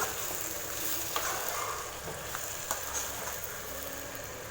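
Sautéed tomatoes are stirred in a pan, a soft continuous sizzle with a few spoon scrapes and taps breaking through, heard close and fairly quiet, with no voices.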